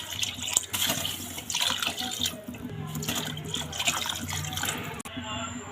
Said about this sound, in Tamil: அதுக்கு நம்ம 4 டம்ளர் தண்ணி சேர்த்துடலாம்.